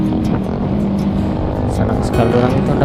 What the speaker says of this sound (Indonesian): Apalagi bunyi motor begitu itu ya Allah